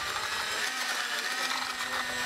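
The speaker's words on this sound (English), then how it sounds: "Using the provided mixing paddle and a power drill, thoroughly mix the Helibond grout." A power drill fitted with a mixing paddle churns Helibond grout for a crack stitching repair, a steady close whirring hum that holds level throughout with no talk.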